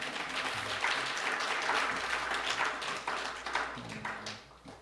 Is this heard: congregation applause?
yes